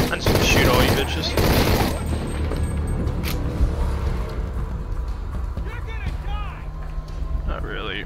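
Gunfire from the video game Shadow of the Tomb Raider, with a dense, loud burst of rapid shots in the first two seconds giving way to quieter scattered game sounds and effects.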